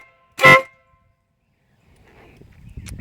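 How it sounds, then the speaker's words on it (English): A single short, loud blast from a Custom Dynamics Minibeast air horn, close by, followed by silence and then faint rumbling background noise. "The Minibeast 1 by Custom Dynamics is louder than the old Pro Pad"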